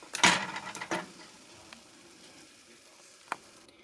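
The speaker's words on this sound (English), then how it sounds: "So I'm just going to give that a bit of a stir" Carrots and celery get stirred in a soup pot for ham hock soup, with a couple of scraping, sizzling clatters of the spoon up front, a quiet simmer after, and one more brief knock near the end.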